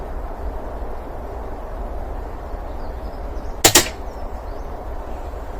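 A single sharp crack from an Umarex Iconix air rifle shot striking a metal spinner target rings out once, brief and distinct, over a steady low outdoor background hum, with no voices.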